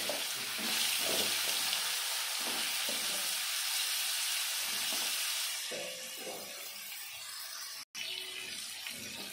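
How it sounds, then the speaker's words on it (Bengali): Potatoes fry in hot oil with black cumin seeds in a pan for a Bengali bitter gourd and hilsa fish curry, giving a steady soft sizzle with occasional stirring scrapes, quiet and continuous. "আর আলুগুলো দিয়ে একটু ভেজে নেব।"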